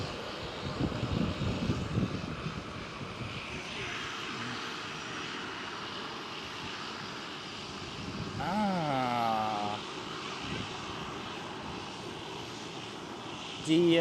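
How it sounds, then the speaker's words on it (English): A United Airlines Boeing 767 departs Amsterdam Schiphol with a distant, steady jet engine rumble that swells slightly, set against wind and general airport background noise, and people talk faintly. "Next one up for departure is a United Airlines 767"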